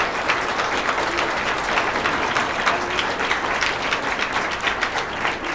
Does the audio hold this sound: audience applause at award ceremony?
yes